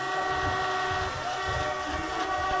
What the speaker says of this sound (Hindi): चलो काफ़ी देर से हमने हॉर्न नहीं किया, हॉर्न करते हैं